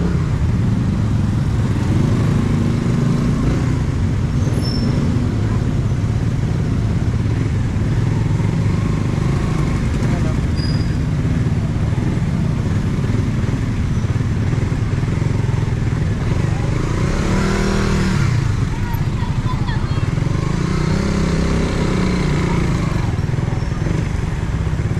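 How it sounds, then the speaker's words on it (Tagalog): Many motorcycles on a roadside: a loud, continuous mix of engine drone and revving with passing swells and clatter throughout, under occasional talk. "pag may pasok, daming estudyante, ang daming motor sa gilid oh."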